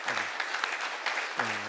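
Brief applause from a church congregation at a Christmas Sunday service, dense clapping that carries on throughout while a voice speaks over it.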